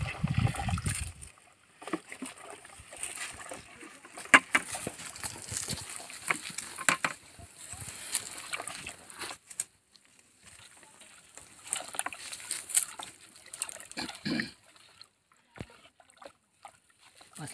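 Two solutions are poured together and stirred into Bordeaux mixture, giving irregular splashes and sloshing in bursts with brief pauses, fairly quiet, with voices talking now and then.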